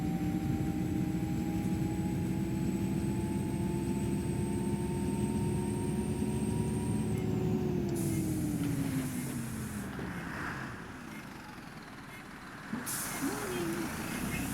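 Heavy air brakes hiss and release on an Optare Solo M920 bus in OMSI 2, a steady loud engine drone with whining tones that dips and fades before a sharp pneumatic burst near the end.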